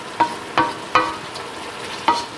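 A utensil scrapes and stirs across the bottom of a pot while deglazing for chicken cacciatore, four distinct scraping strokes over a soft background sizzle, close and clear with no voices.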